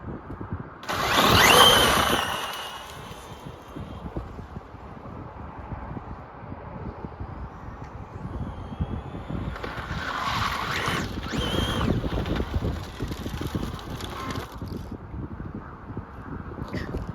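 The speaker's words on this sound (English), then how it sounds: "It's funny because it makes proper skid marks, skid noises" A 1/5th scale Arrma Infraction 6S RC car on a carpark gives a loud whining burst as it launches, then a long roaring, hissing run with screeching skid sounds, heard outdoors in wind with no talk.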